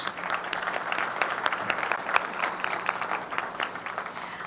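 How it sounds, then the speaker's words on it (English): An audience claps steadily for several seconds, with dense, even applause and no talking over it. "So for that, we applaud you and thank you very much."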